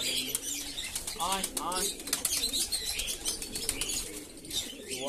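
Pigeons in hot summer weather coo in soft, repeated phrases amid bursts of wing flapping and light rustling, close by.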